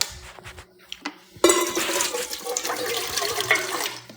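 Water from a tap pours steadily into a dog's bowl indoors, starting abruptly after a few faint clunks and running continuously at moderate loudness, with no talking over it.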